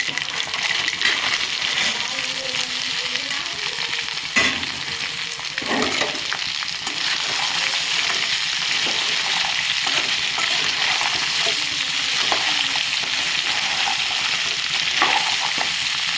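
Masala, ginger and onions sizzle steadily in a pan for crab curry, a continuous close frying hiss with occasional stirring clinks and scrapes, no voices.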